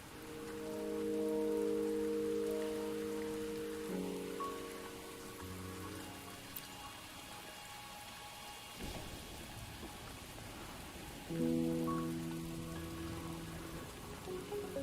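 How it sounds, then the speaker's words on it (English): Steady rain falls in the video game Wuthering Waves, a continuous hiss of drops on surfaces with a distant thunder rumble midway, heard beneath sustained musical tones and without any talk. "Don't worry, the rain won't last much longer."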